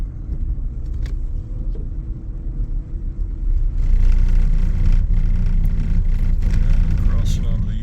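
Truck driving on a snowy road between Crab Orchard, Kentucky and Milroy, Indiana, a steady low engine and tire rumble heard from inside the cab that grows louder midway.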